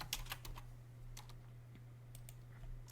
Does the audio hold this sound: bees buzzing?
no